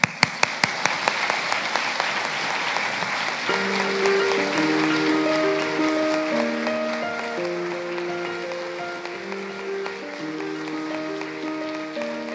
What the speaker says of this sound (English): we will applaud you as you head up the stairs